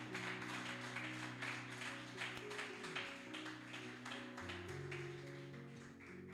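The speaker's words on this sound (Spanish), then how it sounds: "Bríndale un fuerte aplauso al Señor." A church congregation claps in a loose, continuous burst of applause over sustained keyboard chords, fairly faint and even throughout with no talking.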